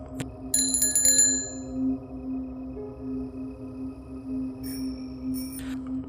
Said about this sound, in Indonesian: Saat ia membunyikan bel lonceng sepeda, terdengar lonceng lain yang ikut menyahut dari kejauhan